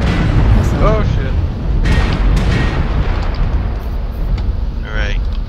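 Battle noise in a video game with an incoming missile explosion, heavy rumbling booms and a couple of sharper blasts under a steady roar, while voices talk over the action.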